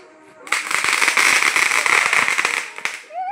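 Diwali firecrackers going off outside erupt into a loud, continuous crackling barrage lasting a couple of seconds, then fade into scattered pops.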